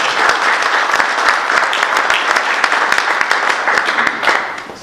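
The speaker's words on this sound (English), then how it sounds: "a round of applause for our panelists for being here today" An audience gives a loud, sustained round of applause for the panelists at an equity crowdfunding panel, dense clapping rolling on steadily for several seconds with no speech over it.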